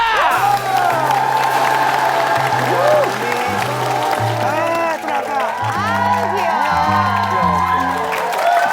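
A Korean TV variety show's studio audience applauds and cheers over loud background music, the crowd noise sustained beneath the melody throughout.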